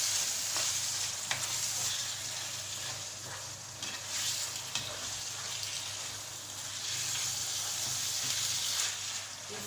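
Ground beef for lasagne browns in a pan with a continuous soft sizzle and occasional stirring scrapes, steady and moderately close, with no talking.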